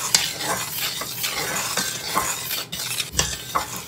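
Chopsticks stir all-purpose flour and baking powder in a work bowl, giving soft scraping and scratching strokes with a few sharper taps against the bowl.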